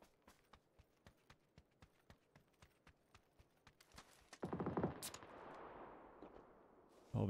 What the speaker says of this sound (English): SMG's going on over there.